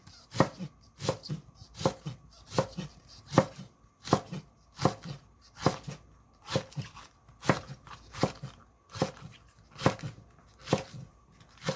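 Knife slicing vegetables diagonally on a cutting board: steady, evenly spaced crisp chops, about two per second, close and fairly quiet, with no talking.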